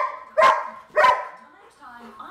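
A dog lets out two loud, close barks about half a second apart, then quieter whimpering sounds.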